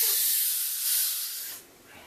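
A steady close hiss of fizzing carbonated homemade cream soda sizzles for a couple of seconds, then drops off quickly to a quieter crackle.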